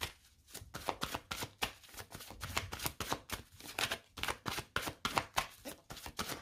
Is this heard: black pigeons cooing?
no